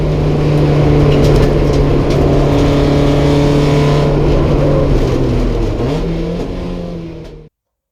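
A Porsche 944 race car engine at full throttle on a track during a 944 Challenge race, a loud sustained droning roar with a pitch dip as it shifts, then cutting off abruptly near the end.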